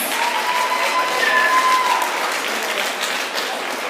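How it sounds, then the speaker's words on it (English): A school gym audience at a 6th grade fall band concert breaks into steady applause, a dense, even wash of clapping that holds at a fairly loud level, with faint tonal squeaks above it. "Let's give them a round of applause in advance."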